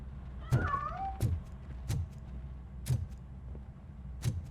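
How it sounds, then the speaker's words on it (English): A cat meows in the video game RoboCop: Rogue City, a single rising and falling meow near the start, set among a few sharp thumps and knocks over a low background hum. "That cat must be hiding inside."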